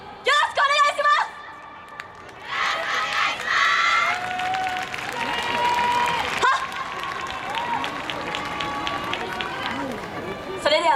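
A crowd at the YOSAKOI Sasebo festival's outdoor Nakiri plaza cheers and shouts for a university yosakoi dance team, with loud bursts of young voices, clapping and calls rising and falling over several seconds, while people speak throughout.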